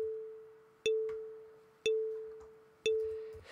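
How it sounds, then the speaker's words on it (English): Synthesized marimba tone at 440 Hz made in Shadertoy, three clean woody strikes about one second apart, each decaying quickly, alone and fairly faint. "So if we listen to the marimba by itself, it's going to sound like this."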